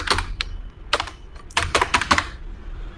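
A password being typed on a computer keyboard, with close, crisp key clicks in irregular quick bursts and short pauses between them, and no talking.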